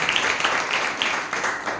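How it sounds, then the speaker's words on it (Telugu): A church congregation claps together in praise. A dense, steady, fairly loud patter of many hands continues throughout with no pause. "చప్పట్లు కొట్టి దేవుని స్తుతి."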